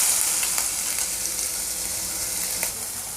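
Snake gourd with turmeric powder sautéing in a pan, a continuous close frying hiss with a few light clicks and scrapes of stirring, no voices.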